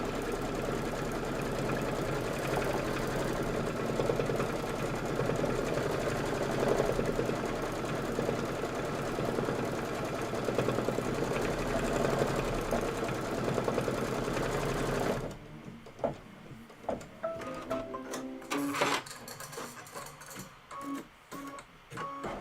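A sewing machine runs a satin stitch across fabric for a Kimberbell Cup of Cheer project, a fast, even, close whirring that stops about two-thirds through, followed by scattered light clicks and handling noises.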